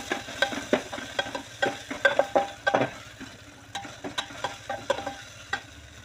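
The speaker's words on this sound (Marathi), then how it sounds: "आलं लसूण आणि कोथिंबीरची पेस्ट केली ती पेस्ट टाकून घेऊया" Ginger, garlic and coriander paste frying in a pan for whole masoor rice, with a spoon stirring. Repeated scraping strokes cut through a soft, steady sizzle, close up and with no talk.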